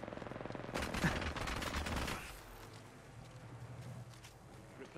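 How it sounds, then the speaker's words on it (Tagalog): A rapid burst of smart bullet gunfire from a video game rattles for about a second and a half, then fades into quieter game ambience, with players talking over it. "Firing a smart bullet."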